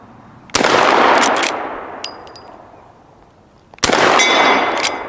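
Two sharp lever-action rifle gunshots ring out a few seconds apart outdoors, each a loud crack followed by a decaying echo.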